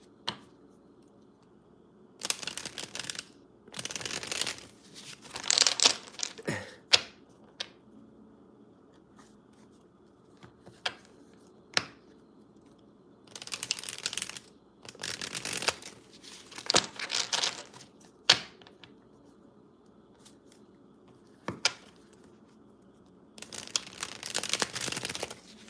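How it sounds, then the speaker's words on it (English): Playing cards are shuffled by hand in repeated crisp riffling bursts separated by quiet pauses, close and fairly soft. "Giving you some card shuffling, Asmir."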